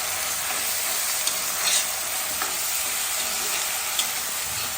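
Banana flower and potatoes fry in a pan with a steady, even sizzle, faint stirring clinks popping through now and then, no voices.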